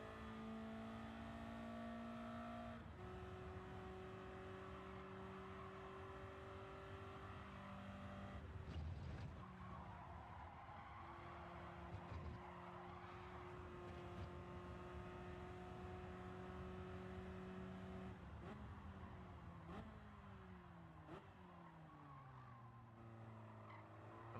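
A powerful 1960s supercar engine races around a track in Gran Turismo 7, its steady whine climbing and dropping through repeated gear changes, faint and distant with no talking.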